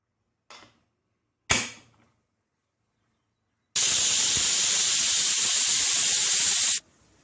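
A pressure cooker whistle lets off a loud, steady hiss of escaping steam for about three seconds, preceded by two short puffs, while cooking mutton curry.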